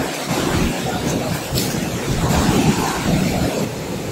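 A waterfall in Odisha roars with dense, continuous rushing water, loud and close, mixed with wind buffeting the microphone.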